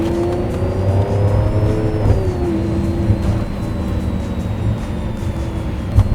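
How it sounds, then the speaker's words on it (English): A Lamborghini Aventador with a V12 engine holds a steady, loud drone with rising and falling pitch, revving continuously and close by for several seconds with no talk. "This is the Aventador, so this is the V12 car."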